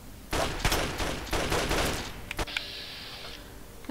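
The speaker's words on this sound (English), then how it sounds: "And now I'm going to shoot your friend in the head." Gunshots from Fallout 3: a quick burst of several loud cracks in close succession, then a couple of isolated shots and a short electronic tone, with no voice over them.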